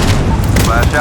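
Loud, dense gunfire from the Call of Duty: Modern Warfare campaign mission Into the Furnace on Realism difficulty. The shots blend into a continuous, booming volley with no pause.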